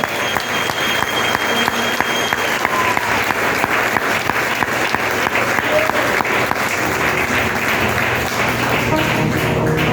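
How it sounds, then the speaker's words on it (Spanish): Church congregation applauding during a sermon, a sustained, loud wash of many hands clapping steadily throughout, with a low hum underneath and no clear speech. "Dale un aplauso al Señor."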